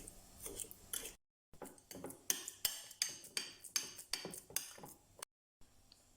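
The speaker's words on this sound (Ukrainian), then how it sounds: "Перемішуємо вилочкою все до однорідності." A fork beats cottage cheese with sugar, vanilla sugar and an egg in a bowl, quiet rhythmic scraping and clinking strokes repeating steadily, close and alone.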